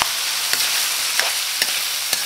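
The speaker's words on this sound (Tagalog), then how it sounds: "Gisahin lang natin." Radish and carrots stir-fried in a hot pan while preparing bopis: a steady, close sizzle with light rhythmic stirring scrapes every half second or so.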